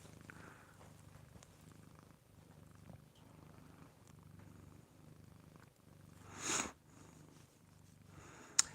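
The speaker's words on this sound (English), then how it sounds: "She got a little purr going." A cat purrs softly and steadily close by, a low rhythmic rumble pulsing about once a second, with a brief hiss-like snort near the end.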